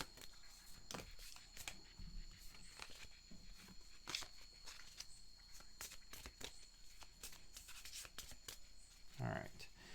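Advanced skill cards from the 7th Continent board game are shuffled and handled on a table, soft close riffling and papery slides with light taps scattered over ten seconds, faint and intermittent.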